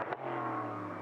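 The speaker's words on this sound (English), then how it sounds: "V8 soundtrack" A V8 GT race car engine at Portimão circuit holds a steady, loud, sustained roar throughout, with a brief surge at the start, heard alone without talk.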